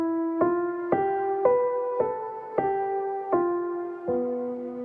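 A lower harmony line on keyboard follows the melody in diatonic sixths, seven distinct notes struck one after another and sustained, soft and unaccompanied by talk.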